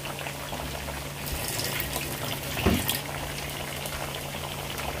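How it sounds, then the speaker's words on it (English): Water is poured into a pot of stewed lamb and garlic that is already simmering, giving a steady bubbling hiss with a brief louder splash partway through. A low constant hum sits underneath, and no one speaks. "So we're going to add water to this now again too."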